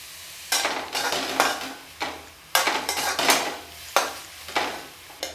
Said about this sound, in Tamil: எல்லா பீட்ரூட்டையும் ஒன்றா சேர்த்து வதக்கிடலாம்